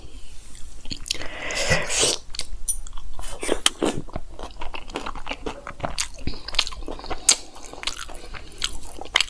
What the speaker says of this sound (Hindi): भल्ला की पहली बाइट ले लो।